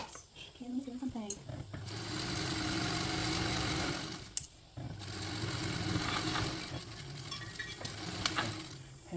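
A sewing machine runs steadily for two long stretches, stitching fabric pieces together at a quarter-inch seam allowance, with a whirring motor hum, a brief stop in the middle, and someone talking at the start.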